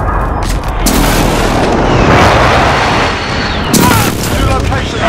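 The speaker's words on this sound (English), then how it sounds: "Enemy precision airstrike." Precision airstrike explosions in Call of Duty: Modern Warfare land as loud, close booms rolling into sustained blast noise, with a second heavy impact near the end.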